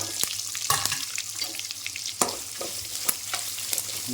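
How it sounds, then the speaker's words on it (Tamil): Onion and garlic sauté in oil with mustard seeds and lentils, a close continuous sizzle punctuated by several sharp spatula scrapes and clacks against the pan, with no speech. "எண்ணெய் எண்ணெயிலேயே வந்து வெங்காயம் பூண்டு இதெல்லாம் நல்லா வணங்கட்டும்"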